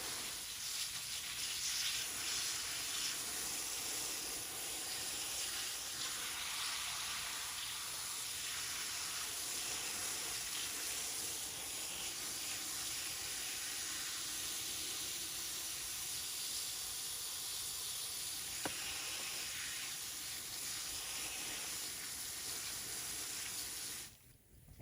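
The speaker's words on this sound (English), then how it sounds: "And now I'm just going to water it in." Garden soil worked with organic rose fertilizer being watered in, a long, steady hissing spray of water running close by for over twenty seconds, even and unbroken until it stops abruptly at the end.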